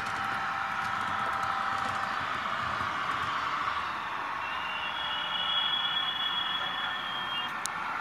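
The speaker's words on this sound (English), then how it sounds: "And there's a freight train carrying on with its journey." A model freight train rumbles and squeals steadily along the track, with a high metallic whine and a thin tone rising midway.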